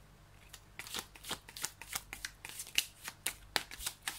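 Tarot cards are shuffled and drawn in a quiet room, giving a run of soft, close riffling and flicking bursts in an irregular rhythm with no talk over them.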